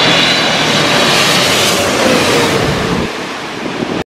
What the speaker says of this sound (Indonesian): ini pesawat transport militer